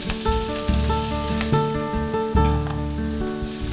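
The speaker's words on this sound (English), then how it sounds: "As soon as that sausage hits the pan, they're going to start rendering out all their fat." Chorizo sausage sizzles in a hot pan as it renders its fat, a loud close crackle running throughout, with a few rhythmic tonal clanks or scrapes over it.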